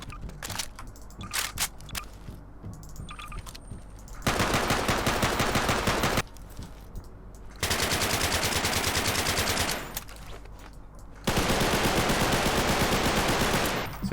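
Automatic weapon fire from a customizable weapons pack in Garry's Mod, loud sustained bursts lasting a couple of seconds each, separated by short pauses with quieter clicks and handling sounds.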